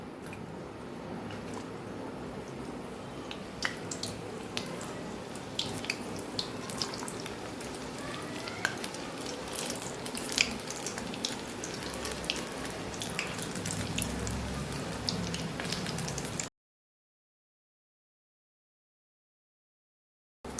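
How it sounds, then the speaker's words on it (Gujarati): Undhiyu goti fritters deep-fry in hot oil with a soft continuous sizzle broken by scattered sharp pops and crackles, quiet and close, before the sound cuts to silence near the end. "તો અહીંયા તેલ સરસ આપણું ગરમ થઈ ગયું છે. તો હવે ગોટીને આપણે તળી લેશું."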